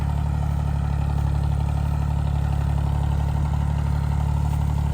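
A tractor engine drives a spray pump in a wheat field, a steady, dense mechanical drone with a constant low hum and rattling clatter that runs unbroken and loud throughout.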